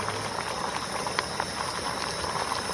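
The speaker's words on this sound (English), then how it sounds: "we have a rolling boil on the wind burner" Water at a rolling boil on an MSR WindBurner stove at high altitude, a steady dense bubbling roar with hiss, close and constant throughout with no talking.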